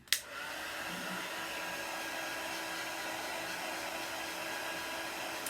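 A hair dryer blows on a Halloween craft project, starting with a sharp click and then holding a steady, loud, close whoosh for several seconds with no one talking.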